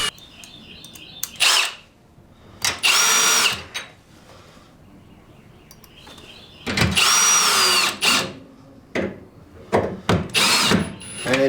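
Power drill driving a bolt into the sash lock of an incubator door, with several loud whirring bursts separated by pauses and faint bird chirps in the background.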